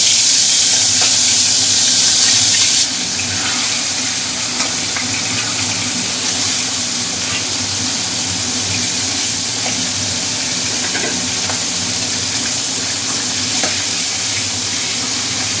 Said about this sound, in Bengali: এবার আমি মাছের মাথাগুলো এক এক করে ভেজে নেব